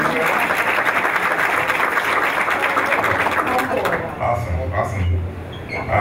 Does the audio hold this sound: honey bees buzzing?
no